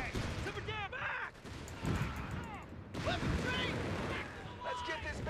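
Company of Heroes 3 battle with gunfire and tank cannon blasts, loud booms and rattling shots mixed into the din, with shouted voices over the fighting.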